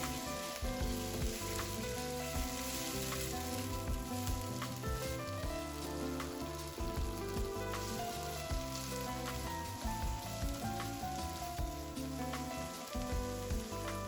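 Carrots and string beans fry in sambal sauce in a wok for a steady, dense sizzle that runs unbroken and loud throughout, with no voices over it.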